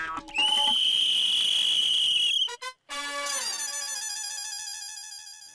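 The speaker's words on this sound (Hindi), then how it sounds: "पुलिस की सीटी की भी कोई वैल्यू नहीं" A police whistle blows in a Hindi TV comedy scene: a long, loud, shrill sustained blast, then a short break and a second warbling, fluttering whistle call.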